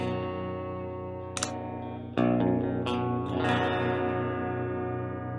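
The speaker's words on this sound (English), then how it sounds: "Let's put a little spring reverb at the back." Electric baritone Telecaster chords ring out through spring reverb with a springy, splashy tail, with a few sharp picked attacks cutting through the sustained notes.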